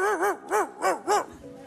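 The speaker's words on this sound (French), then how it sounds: "Parfois, un Saint-Bernard aboie dans les alpages." A Saint Bernard barks in alpine pastures, four close, loud, evenly spaced woofs in quick succession followed by a brief softer trailing sound.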